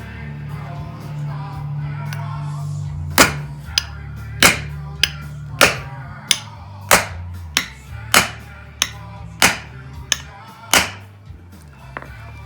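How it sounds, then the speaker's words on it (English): Around a dozen sharp hammer blows drive a rear shock linkage bearing into place on a Honda 400EX, striking at an uneven pace, loud and close, over a low steady hum. "I'm going to bash it with a hammer."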